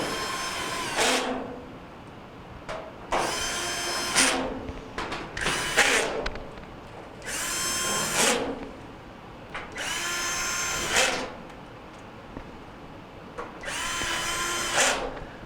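A power drill or driver tightens screws on the back cover of a Kenmore dryer, seven or so loud whirring bursts of one to two seconds each, separated by short quiet gaps.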